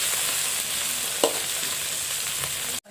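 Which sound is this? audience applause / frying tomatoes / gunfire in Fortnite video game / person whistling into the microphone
frying tomatoes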